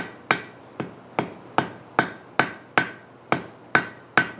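A hammer strikes hot steel on an anvil to fold the tip back into a barb, about ten sharp ringing blows in a steady, evenly spaced rhythm, close and loud.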